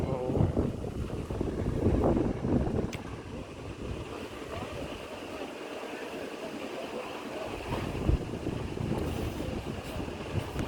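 Strong wind gusts roar and buffet the microphone high on a pagoda where workers are hauling cement to the top, rising and falling in waves while people talk nearby.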